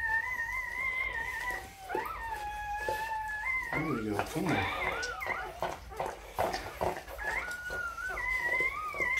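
Newborn puppy whimpering during whelping of a large litter, thin high cries rising and falling repeatedly under a person's soft, coaxing talk throughout.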